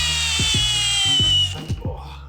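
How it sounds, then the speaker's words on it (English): A brand-new Milwaukee drill works on a semi truck lug nut, giving a high whine punctuated by rapid rhythmic hammering pulses before spinning down and stopping abruptly. "This is a brand new Milwaukee name brand drill."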